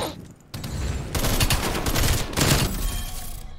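Rapid bursts of gunfire from Call of Duty Cold War, loud and dense, with continuous overlapping shots and a brief lull near the start.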